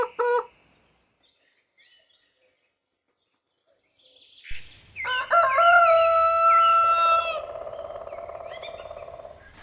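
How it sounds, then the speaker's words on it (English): A rooster crows once loudly and close, a long rising and falling cock-a-doodle-doo that ends in a sustained tail. It comes after a brief earlier sound and a stretch of near silence, and no one talks. "cock,"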